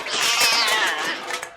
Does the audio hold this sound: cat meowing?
yes